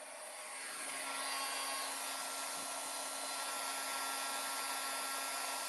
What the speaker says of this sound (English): All right, I'm going to heat this up again.